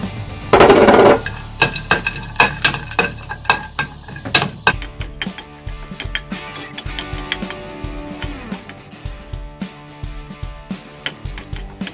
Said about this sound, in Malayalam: കാഷ്യൂനട്ട് ഇതിലേക്കിട്ട് വറുത്തെടുക്കാം